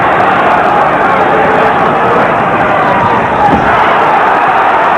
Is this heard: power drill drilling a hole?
no